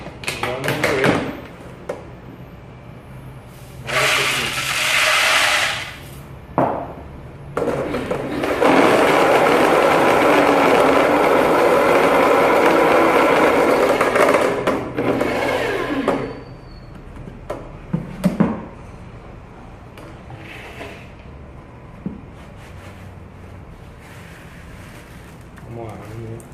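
A grain mill grinds malt in two loud, gritty bursts, a short one and then a longer steady crunching run, with brief knocks and adjustments between them and a voice talking quietly in the quieter stretches.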